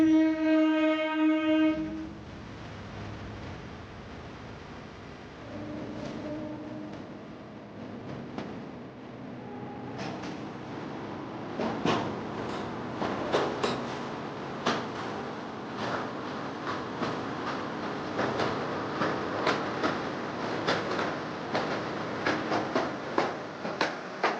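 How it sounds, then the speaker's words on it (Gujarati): A passenger train pulls into a station: a horn sounds at the start, then a low rumble builds into repeated rhythmic clacks of wheels and cars rolling past, continuing steadily. "મિત્રો આપણે ટ્રેન આવી ગઈ છે"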